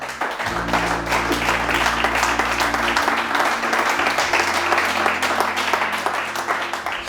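Church congregation applauding to acclaim the Lord, a dense, steady wash of many hands clapping at once, loud and sustained throughout with a low hum beneath.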